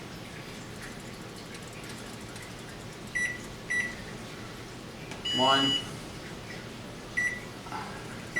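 A kitchen microwave oven's buttons give short electronic beeps as a 15-minute timer is keyed in, with a rising warble partway through; a person speaks briefly between the tones.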